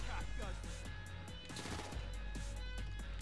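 Video game gunfire rattles in quick automatic bursts, a rapid chain of close, punchy shots that runs nearly unbroken, with a voice briefly talking underneath.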